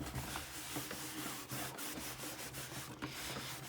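Paper is rubbed away by hand from an image transfer on a flat, smooth surface, giving a faint, continuous scratchy rubbing with short repeated strokes and no talk.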